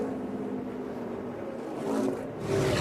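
IndyCar race cars at speed on a Chicago street course during practice, a continuous mid-distance engine drone that swells near the end as a car accelerates, no talk.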